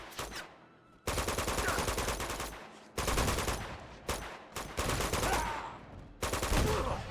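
Heavy repeated gunfire in Uncharted 2: Among Thieves, including a shotgun, with loud bursts broken by short gaps and faint echoing tails over several seconds.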